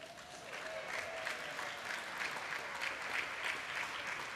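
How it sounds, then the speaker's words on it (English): An audience at a community talent show applauds a card trick, steady dense clapping that fills the room for several seconds, fairly loud and even throughout. "A big round of applause for Finn Harmon."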